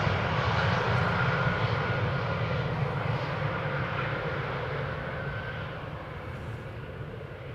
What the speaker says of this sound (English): we get to see the A380 up close and personal today, and also, more importantly, hear it as well